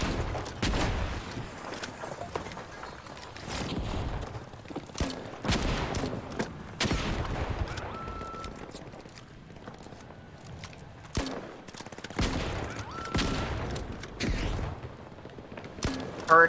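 Turret gunfire in the video game Citizen Sleeper keeps up dense, continuous bursts of shots with mechanical creaks under them, loud and sustained throughout without pause.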